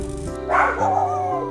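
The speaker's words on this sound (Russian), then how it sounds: "Что тут собака-то такая?" A dog barks once, loud and close, amid steady outdoor background noise at a market area in Nha Trang, Vietnam.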